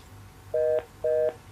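Two short, identical electronic tone bursts repeat about half a second apart over a faint hiss, the beeping of a telephone line after a call drops.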